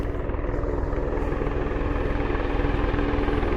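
A helicopter flying in over a steep ridge line outdoors, its rotor chopping in a fast, steady pulse, loud and close, with a continuous engine drone underneath and no talking.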